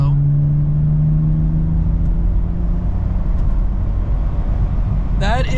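A BMW 335i pulls through a roll-on acceleration, its engine giving a loud, steady drone close by, with a sharp rising sweep right at the end.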